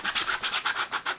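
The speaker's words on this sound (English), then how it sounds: "So, now I have more of those sanding block things." A sanding block rubs back and forth over a 3D-printed part for a Final Fantasy VII Cloud accessories kit, about eight quick, even scraping strokes, close and clear.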